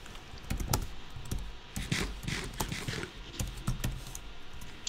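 Rapid, clattering keystrokes on a computer keyboard during Minecraft play, dense bursts of close typing that pause briefly and resume, heard alone without talk.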